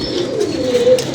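Pigeons coo in a low, steady, continuous murmur close by, with a faint chirp overhead and no voices.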